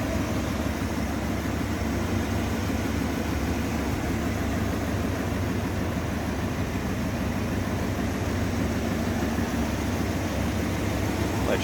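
A 1964 Ford Thunderbird convertible's 390 V8, fitted with a new Edelbrock carburetor, idles steadily and smoothly with a constant low rumble and broad hiss, heard up close with no talking.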